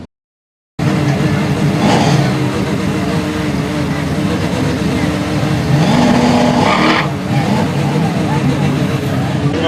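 Supercharged 1996 Volvo 960 fitted with a Chevy small-block V8 driving at a car show event, a loud, continuous engine roar close by that swells twice, with people talking over it.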